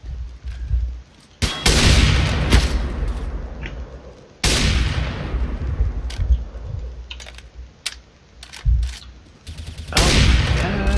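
Counter-Strike: Global Offensive gameplay with bursts of loud gunfire, several sharp shots and longer sustained volleys separated by quieter stretches of game ambience.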